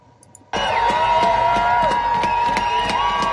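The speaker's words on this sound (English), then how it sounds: "Oh, I hear a lot of cheering." Crowd cheering at the Freedom Convoy protest in Ottawa, a steady loud roar of voices with rhythmic thumps and honking tones, starting abruptly and holding throughout.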